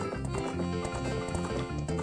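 Rhythmic galloping hoofbeats of a horse in the video game Ocarina of Time, a quick repeating clip-clop pattern, close and steady, layered with game music.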